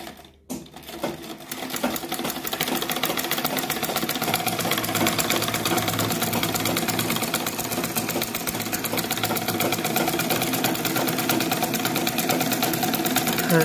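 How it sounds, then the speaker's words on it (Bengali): A Singer sewing machine stitches at a fast, even rate, giving a continuous rapid mechanical chatter up close after a brief start at the beginning. "এখন আমরা সুইং করব।"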